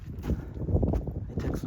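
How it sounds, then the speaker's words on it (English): Gusty wind buffets the microphone on the Grapevine Trail desert hike in southwest Nevada, a continuous low rumbling roar that swells and dips throughout. "sorry about the wind."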